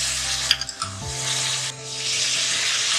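Chicken pieces hit hot oil in a pot with garlic and ginger, giving a few sharp clatters and then a steady, hissing sizzle that stays close and fairly loud, with no one speaking.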